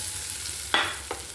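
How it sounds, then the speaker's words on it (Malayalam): Grated coconut and spices fry in oil in a pan for an Onam sambar, a soft, quiet sizzle broken by two brief scraping stirs of a spoon. "തേങ്ങയിട്ട് നല്ലോണം വറുക്കാം."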